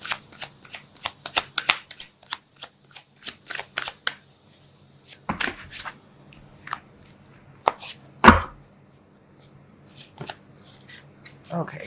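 Tarot cards are shuffled in rapid riffling bursts, crisp and close, followed by a few sharper single taps and slaps with quiet pauses between.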